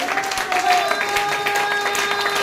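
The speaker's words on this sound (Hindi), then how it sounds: "माननीय प्रदीप जैन सर के लिए बहुत जोरदार तालियां चाहते हैं साहब" Applause from an audience at a motivational event, a dense steady patter of clapping with tonal hum and faint voices mixed in, fairly loud throughout the short stretch.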